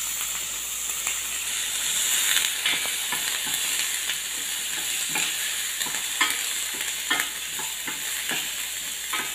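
Carrots frying in a hot pan give a steady, bright sizzle and hiss, with repeated scraping strokes of stirring breaking through throughout, close and continuous, no voices.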